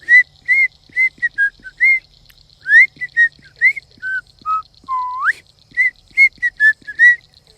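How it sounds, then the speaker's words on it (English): Someone whistles a tune alone, a string of clear, close, loud notes in short phrases with a few sliding pitches, with no talking. "I walk in there and I whistle."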